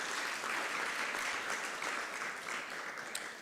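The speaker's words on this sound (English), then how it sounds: "I'm waiting for the applause." Faint, steady audience clapping at a company's full-year financial results presentation, a continuous soft patter of many hands heard from a distance.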